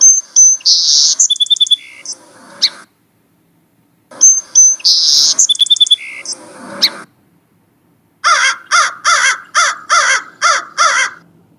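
Crow cawing in a children's story: two clusters of harsh caws mixed with sharp chirps, a pause, then a run of about seven loud, evenly spaced caws, close and clear with no talk.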